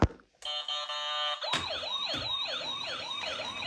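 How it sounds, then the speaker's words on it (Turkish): A small electronic toy ambulance siren with lights wails in a quick, repeating up-and-down pattern, thin and tinny, running steadily after a brief tonal beep. "Ambulans geliyor. ışıklı ambulans."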